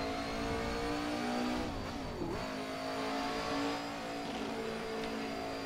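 The Ford V8 engine of a Jordan 191 race car runs on an install lap, a steady droning engine tone that rises and falls with revs, heard continuously and fairly close, with no talking.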